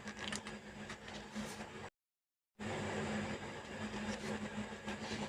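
A sewing machine stitching a skirt seam runs in a steady, dense mechanical whir with a fast rhythmic clatter, broken by one brief dead-silent gap before it resumes just as loud and close.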